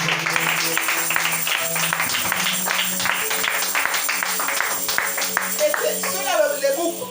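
Church congregation clapping in rhythm to acclaim the Lord, a steady run of handclaps mixed with cheering voices and a sustained musical drone, with a voice rising near the end.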